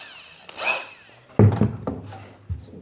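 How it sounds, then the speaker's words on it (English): Power drill pre-drilling into wood while building a Smitty ice-fishing sled, heard as a few short close bursts of whirring and thunking, with a quieter whine just before. "Got the pre-drill going."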